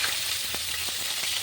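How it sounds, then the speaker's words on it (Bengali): Potatoes and drumstick stems fry in a wok for a Bengali rohu fish curry, giving a steady close sizzle with a few soft spatula scrapes and no voices. "এবার আলু আর ডাঁটা দিয়ে বেশ কিছুক্ষণ ভেজে নিচ্ছি"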